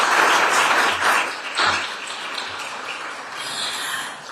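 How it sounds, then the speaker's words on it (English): Audience applause after a presentation at an environmental justice symposium, a broad roaring clatter of many hands that swells early and gradually fades. "Let's give her another big round of applause for that presentation."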